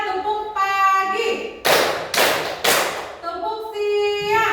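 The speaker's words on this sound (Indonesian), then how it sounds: "untuk tepuk tangan pagi hari itu sebanyak 3 kali" Three sharp hand claps from a classroom group doing a morning clap routine, evenly spaced and loud, set between sustained voices before and after.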